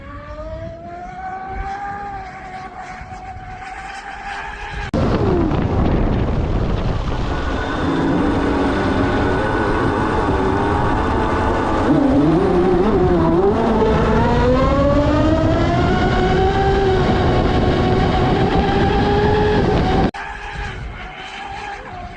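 A 111 mph RC speedboat makes a high-speed two-way pass, its shrill motor whine rising loudly, sweeping up and down in pitch as it nears and recedes, then dropping back to a fainter drone.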